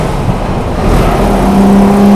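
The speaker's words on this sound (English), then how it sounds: "I love a V12 engine." A Jaguar XJS V12 engine pulls hard in third gear on a racing circuit, a steady loud drone that grows slightly louder as it accelerates, heard from inside the cabin with no talk over it.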